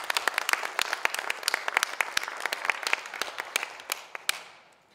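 A small audience at a Dale Carnegie CEO welcome gathering claps, distinct sharp hand claps in a brisk irregular stream that thins and fades out toward the end, close and alone without talk.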